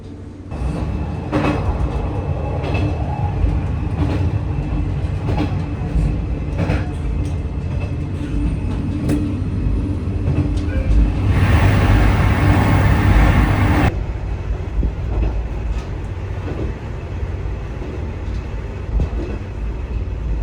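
A Japanese train runs steadily on its rails near Ashinomaki Onsen, a continuous loud rumble with a rising roar partway through, then settling back to an even hum.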